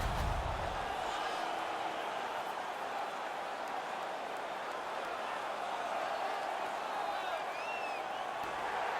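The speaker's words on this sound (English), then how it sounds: "The crowd is ecstatic." A roaring arena crowd in the NHL 19 hockey video game after a fight, a steady wash of cheering and noise holding at a constant level throughout, with a brief low thump at the start.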